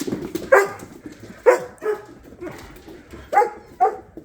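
Several short, high yips and barks from young dogs come in scattered bursts, fairly close, with small whimpers between them.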